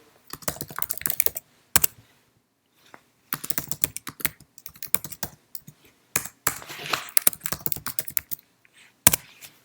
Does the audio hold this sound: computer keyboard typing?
yes